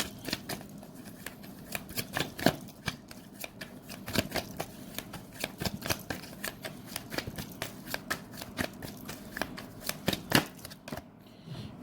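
Tarot cards are shuffled close up in a continuous stream of quick, papery riffles and snaps at irregular rhythm, fairly quiet with no talking.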